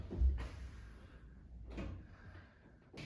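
Freshly painted interior doors are fitted back onto their hinges, giving three separate wooden knocks and clunks spaced over a few seconds in a quiet room.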